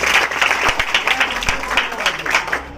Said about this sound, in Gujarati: હા જોરદાર તાળીઓ દીધો